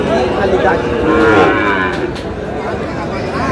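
Cattle, including Sahiwal bulls and calves, low and moo amid a busy crowd at the Aftabganj livestock market in Dinajpur, with overlapping calls and steady background murmur of a noisy outdoor market.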